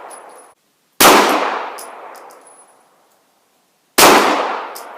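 Two loud, close pistol shots from a Springfield XD 9mm, each a sharp crack followed by a long ringing decay, about three seconds apart, with no talk.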